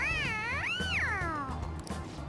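An animated cat in the video game Persona 5 gives a long, rising-and-falling meow-like purr, loud and close over a low steady game background hum.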